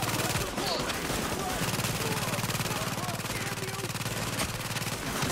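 Rapid gunfire from a shooting video game rattles in steady bursts throughout, overlapping a low droning hum and game effects.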